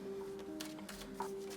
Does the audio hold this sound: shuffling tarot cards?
yes